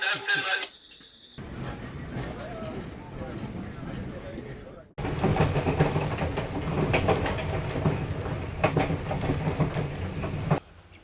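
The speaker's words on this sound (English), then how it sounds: "boarding an overnight train destined for Victoria Falls" An overnight passenger train headed for Victoria Falls, rolling on rails with a steady rumble and rattling clatter that grows louder midway, under intermittent talk.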